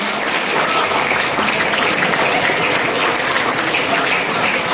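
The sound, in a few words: applause for a race prize winner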